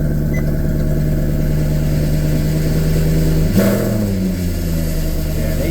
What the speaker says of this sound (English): So this is also going to be a cold start.